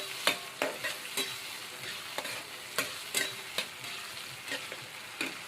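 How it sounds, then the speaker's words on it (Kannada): Tomatoes frying in a pan on a home kitchen stove, with a steady sizzle broken by repeated sharp scraping stirs of a spatula, close and fairly quiet, without talk. "ಒಂದು ಸ್ವಲ್ಪ ಫ್ರೈ ಮಾಡ್ಕೊತೀನಿ ಚೆಂದಾಗಿ."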